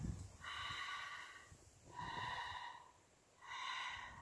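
Three slow exhalations through a constricted throat in ujjayi yoga breathing, each a soft, airy hiss lasting about a second, separated by quiet pauses, close and faint.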